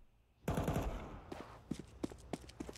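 Burst of automatic AK rifle fire in a competitive shooter game, a dense rapid volley up close followed by a few scattered single shots and footsteps, with brief talk.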